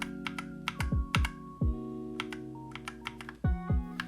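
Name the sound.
typing on Akko 3068 Silent Bluetooth keyboard keys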